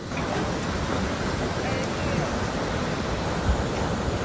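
Gullfoss waterfall in Iceland, a steady, broadband roar of falling water with a wind-buffeted, rushing texture that stays constant throughout.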